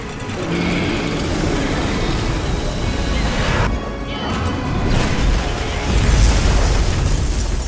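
A sustained, roaring explosion in Monster Hunter Wilds rumbles with heavy crashing and booming layers, loud throughout and swelling again toward the end.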